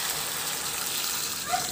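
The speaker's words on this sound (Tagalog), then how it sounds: "At pagkatapos yan, lagyan ko na rin yan ng tubig." Water being poured into a cooking pot of chicken makes a steady, broad gushing rush that holds evenly throughout, close by and moderately loud, with no talking over it.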